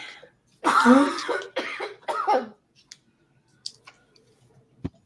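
A man still recovering from COVID coughs a few times in quick succession, close and loud, followed by a few faint clicks and small mouth sounds in a quiet room.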